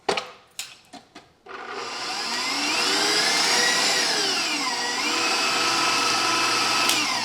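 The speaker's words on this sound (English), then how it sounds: "We've got 4 cups of eggs, 2 cups of sugar. We're going to go ahead and add that in, and we'll go ahead and give it a little mixy mix" An electric mixer whirs steadily as it beats eggs and sugar for a Fanta cake batter, coming in after a few knocks and bumps and holding a loud, continuous drone that shifts slightly in pitch as it runs.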